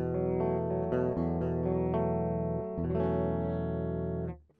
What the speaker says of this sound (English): That's what the guitar sounds like on its own